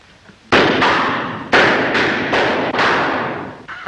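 Gunshots ring out at shooting practice in a vintage crime movie: five loud, close, sharp bangs about a second apart, each trailing off in a long echoing decay, with no talking.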